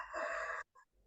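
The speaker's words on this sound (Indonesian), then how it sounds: "ayam udah berkokok" A rooster crows once, a short, bright harmonic call held for about half a second and then cut off, followed by a brief softer note, fairly faint with no talk.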